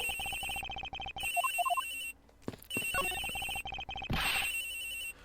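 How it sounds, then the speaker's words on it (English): A synthesized cell phone ringtone in the game Ace Attorney Investigations plays in repeated bursts with short gaps, clear and fairly loud, electronic and melodic, over a faint game background. "The ringing's coming from in here, sir."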